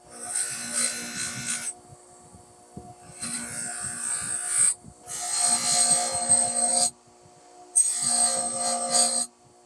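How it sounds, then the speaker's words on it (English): A Damascus steel knife blade pressed against a spinning buffer wheel, heard as several loud, close passes of hissing, rubbing friction separated by short quiet gaps while a low motor hum continues. "now I'm just gonna go buff them on the buffer wheel just to make it a little more satiny"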